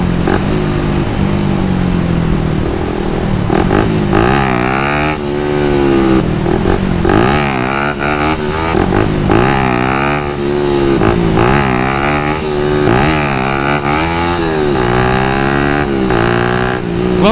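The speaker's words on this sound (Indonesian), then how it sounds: "let's do some wheelies" A Suzuki Satria FU motorcycle revs hard during wheelie riding, its engine rising and falling in repeated throttle blips and surges, loud and close throughout with a steady buzzing drone between pulls.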